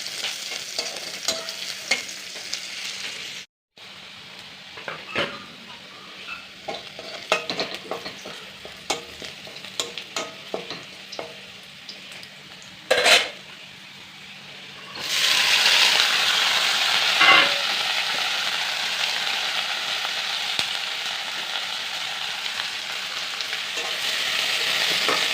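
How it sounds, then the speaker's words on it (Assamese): Arum flowers fry in a little oil, with scattered scraping and clinking as they are stirred in the pan, then a loud, steady sizzle that swells up and continues to the end. "কচু ফুল ভাজাত বেছি তেল দিব নালাগে, কম তেলে দিয়ে ভাজিব লাগে।"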